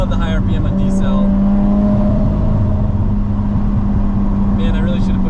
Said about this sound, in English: Love the high RPM on decel.